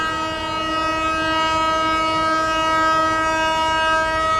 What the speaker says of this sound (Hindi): कंटिन्यू हॉर्न करते हुए आ रही है।